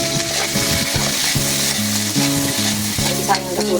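Food sautéing in a hot pan, a loud close sizzle with stirring and scraping of a utensil, continuous and steady throughout.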